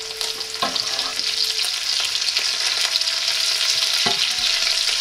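Onions hit a pan of caramelizing pork belly for a pork belly cabbage dish, setting off a loud, continuous hiss and sizzle with a few knocks of a utensil against the pan, no talk.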